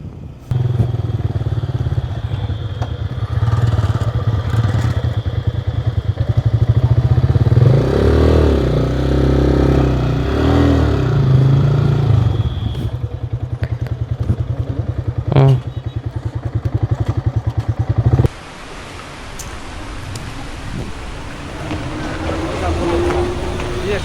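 A motorcycle engine drones steadily on a bike trip through Odisha, loud and close for most of the ride, with wind rush and people talking over it before the engine noise drops off near the end.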